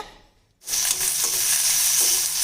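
Onions and tomatoes fry in a pan with a pinch of asafoetida, a sudden loud, steady sizzle bursting in after half a second of near silence and holding strong, with faint stirring scrapes underneath.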